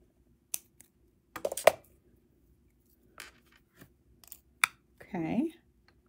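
Wire cutters snipping the trailing end of wire at the back of a wire-wrapped beaded statement necklace: a few sharp, close clicks and snaps spread over quiet stretches, with brief soft handling noises.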